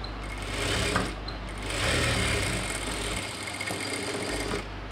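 A sewing machine stitches a chudidhar sleeve in a continuous run, its fast rhythmic clatter close and steady for several seconds with slight swells in loudness.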